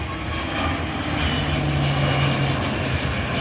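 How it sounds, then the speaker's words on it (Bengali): Steady loud roar of a navy aircraft flying low overhead during a military air show, close and continuous, with a low droning hum running underneath throughout. "দেখতেই পাচ্ছেন আরেকটি নৌবাহিনীর এয়ারক্রাফট চলে এসেছে, বেশ নিচে দিয়ে নামছে বিমানটি।"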